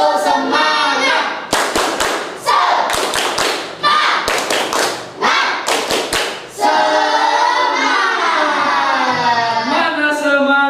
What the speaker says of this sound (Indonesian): kita lakukan tepuk semangat dalam hitungan 1, 2, dan 3